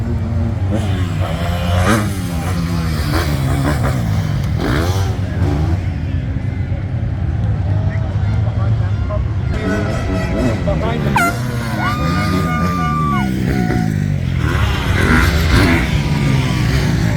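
Motocross bikes circle the track on a parade lap at a national race in Washougal, their engines revving and rising past the listener amid crowd noise, a horn blast and nearby talk.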